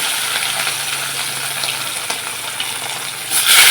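Hilsa fish shallow-frying in hot oil, giving a loud, dense, close sizzle that runs steadily and swells into a harsher crackle in the final moments.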